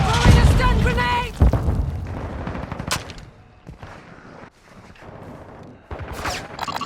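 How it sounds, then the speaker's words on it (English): A stun grenade thrown and detonating in a video game: a burst of gunfire-like bangs and a sharp boom cut through loud in-game chatter, followed by quieter background noise and another short flurry near the end. "Throwing a stun grenade!"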